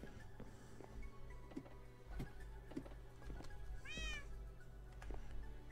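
Inside Minecraft, a cat meows briefly about two-thirds of the way through, rising over steady game ambience and soft clip-clop-like hoof taps.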